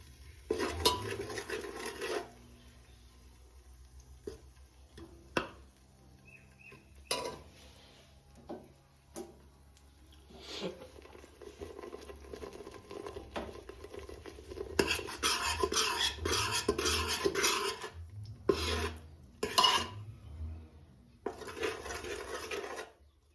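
Utensil scraping and stirring in a pan of food on a medium flame, with intermittent clinks and rubbing strokes in bursts, some dense rapid clusters near the end, close and moderately loud, no talking.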